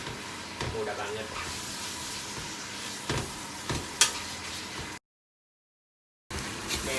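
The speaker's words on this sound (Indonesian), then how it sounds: "ditumis ini biar minyak yang dari sapi itu keluar juga, biar enak" Minced beef sautés in a pan for Japanese beef curry, a steady sizzle with scraping stirs and occasional sharper pops, briefly cut to silence before resuming; a voice talks over it.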